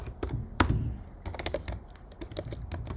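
Typing on a computer keyboard, a close run of quick, uneven key clicks with brief pauses, with no talk over it.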